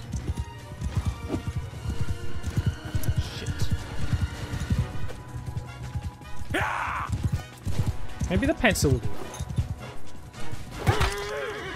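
Horse hooves clip-clop and gallop in Mount & Blade II: Bannerlord during a forest chase, steady and close with a brief whinny and combat clatter, under a voice talking.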